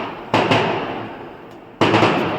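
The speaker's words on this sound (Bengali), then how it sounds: "অন্তত পঞ্চাশ ষাটটা বাজি ফুটে গেল" Firecrackers bursting outdoors during a wedding celebration: two sharp, loud cracks, each trailing off into a long crackling decay, with a short quiet gap between them and no voices.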